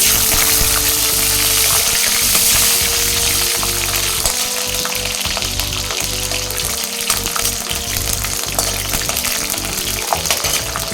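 Garlic fries in hot oil with fenugreek seeds for a bitter gourd tamarind curry, a loud, close, continuous sizzle with crackling pops and occasional stirring scrapes, no talk.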